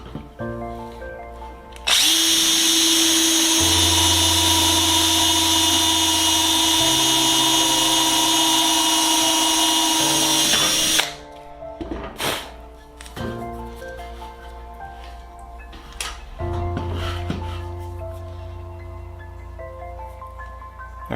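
A power drill bores a hole through the rear spar of a Sonex aircraft during assembly, running loud and steady for about nine seconds, then stopping, followed by quieter clicks and handling noises.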